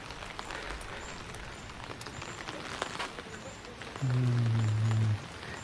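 Rain keeps falling on an umbrella close by, a steady soft patter, while a loud low hum cuts in near the end; no one speaks.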